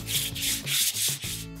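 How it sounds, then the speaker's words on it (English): Steady rhythmic scuffing of a sanding block with 300 grit sandpaper rubbing back and forth over a concrete countertop, close up with several strokes and no talking. "take a sanding block with 300 grit sandpaper and just lightly scuff the area"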